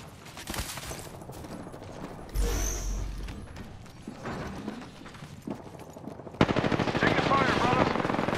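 Bursts of automatic gunfire in the Apex Legends video game, a short rattle early, a thump and whoosh, then a loud continuous volley through the final seconds, close and punchy, with game voice lines around it.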